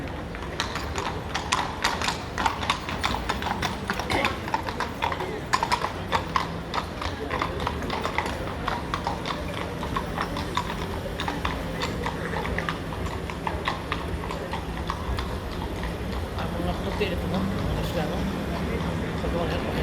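Hooves of a white horse clip-clopping in a steady, continuous rhythm at moderate distance, with people talking over them throughout.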